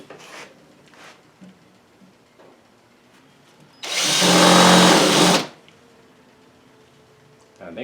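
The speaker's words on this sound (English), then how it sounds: "And I do like to pre-drill my holes. That way I get nothing that splits." A power drill whirs loudly for about two seconds, pre-drilling holes in wood for a miter saw stand, with quiet handling noises before and after.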